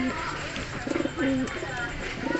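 A young banded racing pigeon coos up close in a loft, several short throaty coos repeating, while someone talks over them.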